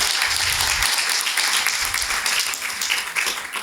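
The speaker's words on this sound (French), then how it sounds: "vraiment, elle peut être applaudie." A conference audience applauds the organiser of a first edition event on nonprofit professionalisation, dense continuous clapping from a sizeable crowd, loud and sustained, thinning slightly near the end.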